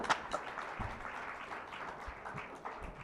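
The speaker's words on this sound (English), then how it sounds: "Please give them one more round of applause." Steady applause from an audience, a continuous wash of many hands clapping with no voices over it.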